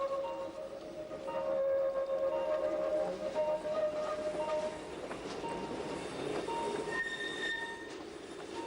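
Appenzell Railways train wheels squealing through an extremely tight curve before a platform, with sustained high-pitched tonal screeches over steady rolling rumble, loud and close, continuing for several seconds with shifting pitches.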